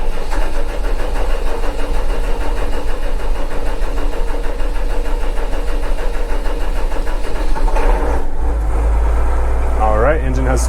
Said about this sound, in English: so we're gonna go ahead and start that engine